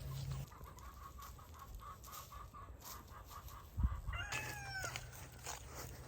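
Hens scratch and dust bathe in the dirt of an outdoor run, with soft low clucks throughout and a short burst of louder, higher calls near the end over steady farmyard background.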